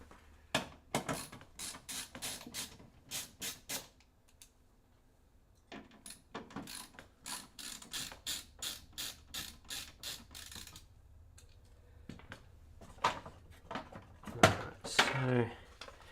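Screws being unscrewed from the side panel of a gaming PC case during a build, a long run of rapid rhythmic ratcheting clicks from a screwdriver, close by, pausing and resuming, with brief talk near the end.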